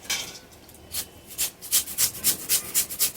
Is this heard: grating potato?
yes